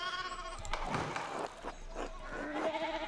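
Sheep bleating in the medieval video game Pentiment: a few short, close bleats from more than one animal over a soft farmyard background, with no talking.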